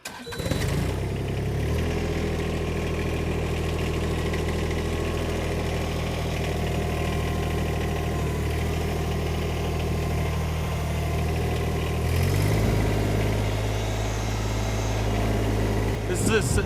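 A neighbor's small tractor, like a glorified lawnmower with a front bucket attachment, idles steadily with a low mid-pitched engine rumble. It is close and continuous, shifting slightly in tone partway through.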